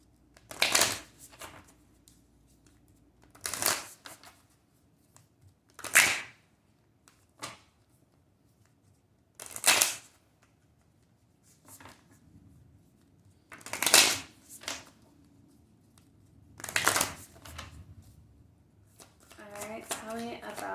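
Animal spirit guide oracle cards are shuffled in repeated short riffling bursts spaced a few seconds apart, close and crisp in a quiet room, with a brief bit of talk at the end.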